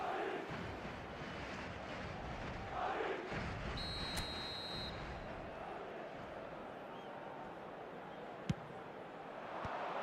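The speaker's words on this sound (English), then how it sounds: "Certainly gave this crowd something to really cheer about." Stadium crowd in an eFootball soccer video game, a continuous loud roar of cheering that swells and holds throughout, with a sharp click near the end.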